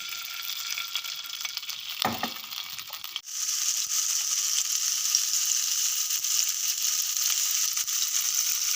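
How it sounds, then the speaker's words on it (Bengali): Chicken seekh kebabs on skewers fry in a pan, a soft sizzle interrupted by a brief clatter as a skewer is set down, then a steadier, louder hiss continuing to the end. "এক পিঠ ভালো করে ফ্রাই হতে দেব"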